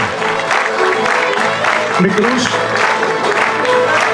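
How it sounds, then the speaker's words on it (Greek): Warm audience applause welcoming musicians at a traditional music event on Kythnos, steady clapping with scattered cheers while a voice speaks briefly over it. "υποδεχτείτε τους με ένα θερμό χειροκρότημα"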